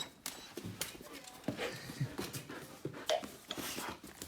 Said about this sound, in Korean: 낑낑거려.